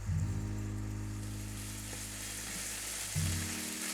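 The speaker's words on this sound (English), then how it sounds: "you can see where it's crisping up because we're frying it in that oil" Steady, continuous sizzling of chicken sautéing in hot oil, close and fairly loud, with a low hum underneath and a brief stirring shift near the end.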